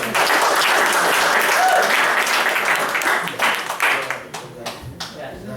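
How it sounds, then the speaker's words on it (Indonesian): An indoor audience at a talk applauds loudly, a dense wash of many hands clapping that thins out and fades into scattered claps near the end, with voices speaking over it. "tepuk tangan dulu buat Kak Tia."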